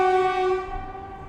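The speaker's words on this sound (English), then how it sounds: "There is train station nearby" A train horn from a nearby station holds one loud, sustained chord that starts at full strength and fades slowly, with no speech.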